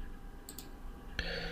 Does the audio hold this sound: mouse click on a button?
yes